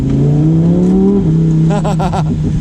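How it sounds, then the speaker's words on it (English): A Lamborghini Huracan Performante engine revs loudly and steadily through its exhaust on the loudest setting, its pitch rising and falling, followed by a few sharp rapid bursts of revving near the end. "the exhaust is on its loudest setting"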